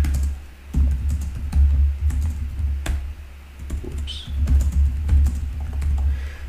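Keywords are typed on a computer keyboard in a series of quick, light key clicks over a steady low hum, close and moderately quiet, with no one speaking.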